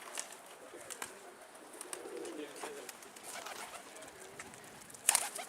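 Pigeons coo softly in an ongoing, fairly distant chorus, with faint flutters and rustles beneath and a brief louder burst near the end; no one speaks.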